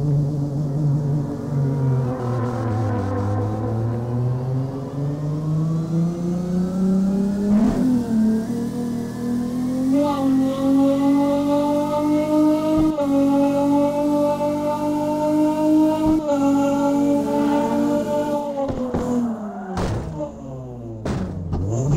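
Hoonicorn Mustang engine in CarX Drift Racing 2 revs loudly and steadily, pitch climbing through a long first gear, with brief thumps and a shift near the end.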